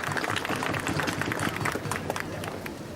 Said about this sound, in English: Please give applause to Australia Federal Police.